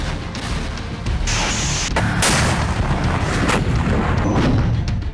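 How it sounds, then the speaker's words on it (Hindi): Artillery bombardment in a war zone, Russian forces shelling Ukrainian areas: a dense, continuous barrage of loud booms and gunfire blasts crowding together over several seconds with no gaps. "प्रचंड बारूद बरसाया"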